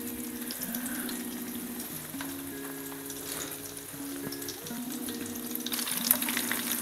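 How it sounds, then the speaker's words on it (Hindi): Egg-coated vegetable and paneer cutlets fry in a pan over medium-low gas, giving a steady close sizzle and crackle with no talking. "ये मीडियम टू लो गैस पे हम गोल्डन होने तक फ्राई करेंगे"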